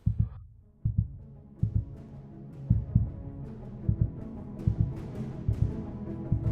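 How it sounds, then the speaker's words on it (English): A heart hammers in a steady thumping rhythm, low and close, each paired beat throbbing under a faint ringing hum that builds slightly over time. "Her ears rang with the hammering of her own heart"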